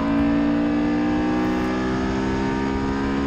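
A Honda S2000 on a dry race track holds a loud, steady high-revving engine note with clear harmonics, continuous and close throughout with no talk.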